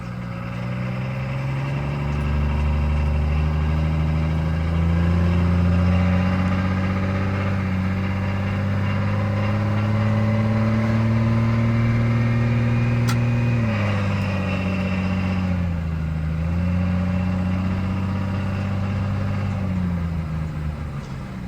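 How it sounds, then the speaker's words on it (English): A racing car engine held at light throttle, its loud steady tone rising and falling gently and dipping briefly partway through, with no talk over it. "Remember, guys, this is just little light throttle action."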